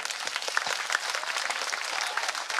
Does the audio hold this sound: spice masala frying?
no